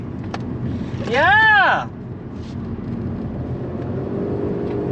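A 2017 Honda Civic with a 1.5 turbo engine accelerating hard, heard from inside the car as a loud rising and falling whine that swells for about a second, then drops back to cabin rumble while people talk.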